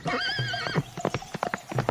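A horse neighs loudly, then hooves clip-clop in a quick irregular run as it bolts from a farm stable, close and clear with no voices.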